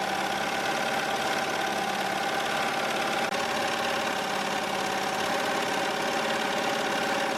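An embroidery machine stitches out a glitter HTV appliqué design, giving a steady, continuous mechanical hum with a fine rapid buzz that holds evenly throughout, with no voices.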